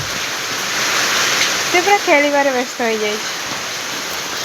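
Heavy rain pours steadily as a dense, even hiss across the whole stretch, with a person talking over it near the middle.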